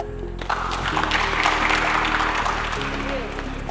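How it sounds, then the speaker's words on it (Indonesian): A crowd at an open student forum on a university campus breaks into sustained applause, a dense wash of clapping heard from a short distance over a steady low electrical hum, with faint voices in the room. "Tepuk tangan."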